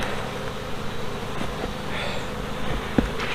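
Honeybees drone continuously and up close during a multi-hive inspection of spring brood, a dense steady buzz with a brief knock near the end.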